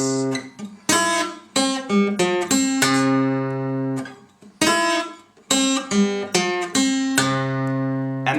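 Acoustic blues guitar plays a Delta lick of six notes, plucked one at a time across strings, with ringing bass tones and sharp treble attacks, close and fairly loud, repeated in short phrases.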